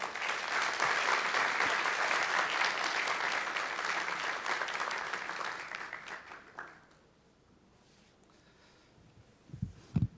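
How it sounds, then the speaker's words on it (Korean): A crowd at a forum applauds steadily for several seconds, then the clapping fades out into near quiet, with a couple of louder knocks at the very end. "큰 박수로 환영을 부탁드리겠습니다"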